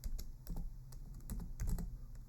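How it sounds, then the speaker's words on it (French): Quick, light keystrokes tap irregularly on a computer keyboard, close and quiet with no voice. "Donc je tape"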